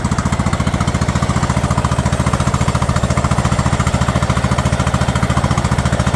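A small Yardman lawn tractor engine runs steadily at a fast, even idle, its rapid chugging pulses loud and close, with no voices.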